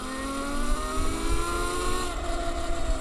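A HappyRun F18 2.0 electric motorbike, a 6000W machine, accelerates with a steady rising whine whose tones climb through the clip, loud and close, with no talk over it.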